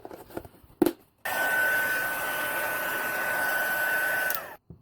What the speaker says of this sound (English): we're going to set that with the heat tool